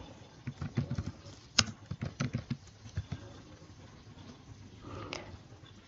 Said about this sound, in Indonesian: Kita tinggal ketik saja di sini judul yang kita cari.